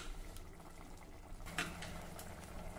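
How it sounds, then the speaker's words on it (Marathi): Rice and water come to a boil in an open pressure cooker, giving a faint, steady low bubbling and simmering that continues throughout, with one slightly louder burst partway through. "हे बघा, आता याला अगदी मस्त उकळी आली।"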